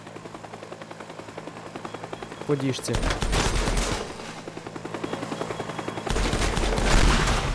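An attack helicopter in the game Teardown strafes with rapid machine-gun bursts over a rotor drone, the loud fusillades arriving in heavy waves with a short spoken line between them.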